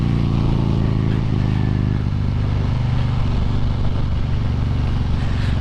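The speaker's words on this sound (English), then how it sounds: "hopefully you guys can hear the exhaust pretty good" A 2020 Harley-Davidson Road King Special rumbles steadily while being ridden, its deep exhaust loud and close under heavy wind buffeting.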